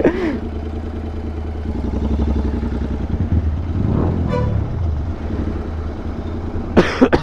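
A person coughs during a short ride, with a few rough bursts rising above continuous engine and traffic noise, including a brief horn toot.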